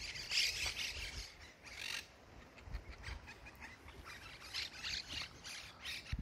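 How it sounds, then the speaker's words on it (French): Many small birds squawking on a beach in Spain, a busy chorus of overlapping harsh calls and chirps at moderate distance under a steady outdoor wash of wind or surf. "Regardez tous ces petits oiseaux."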